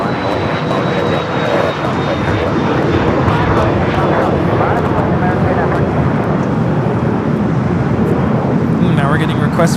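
Sports charter jet arriving at LAX from San Antonio, a loud, sustained engine roar throughout with people talking over it.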